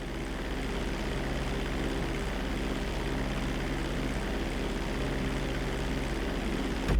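Steady, loud propeller-airplane engine drone in flight in GTA V, a continuous even roar holding level throughout with no talk over it.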